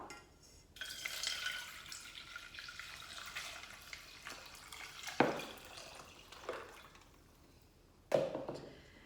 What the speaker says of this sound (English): So then the 10 soapberries, I'm going to add a litre of water.